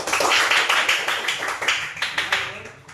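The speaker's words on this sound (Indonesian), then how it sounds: "Baik, kasih aplaus untuk kelompok 1." A class of primary-school students claps together in a classroom, a dense burst of applause that starts loud, then trails off over a few seconds into scattered, weakening claps close by.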